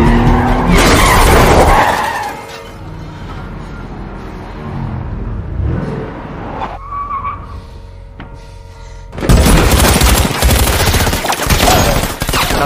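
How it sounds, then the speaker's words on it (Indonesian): Rapid gunfire from henchmen rakes a speeding car in a Bond action scene, with tyres skidding and squealing in loud bursts at the start and end, and a quieter stretch between them. "anak buah Spector pun memberondong mobil Bond dengan tembakan"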